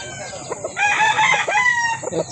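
A rooster crows loudly and close by at a busy chicken market in Calauan, one drawn-out call over a background of murmuring voices and other fowl.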